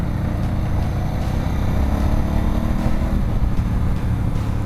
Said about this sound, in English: I can leverage this bike through all these turns nice and easy.